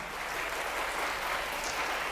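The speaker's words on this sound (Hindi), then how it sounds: "तो आप सब लोग अपने लिए जोरदार तालियां बजाइए" Audience applause from a crowd at a live podcast interview event with students, steady broadband clapping sustained throughout, fairly full and close, with no talking over it.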